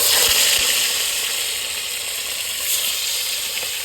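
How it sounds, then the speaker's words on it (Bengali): A fish head and pieces fry in hot oil in a wok, making a loud, continuous close-up sizzle and crackle that holds steady throughout with no one speaking. "আমি মাছ ভাজা শুরু করে দেই আগে মাথা দিয়ে দিই"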